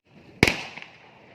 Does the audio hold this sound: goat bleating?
no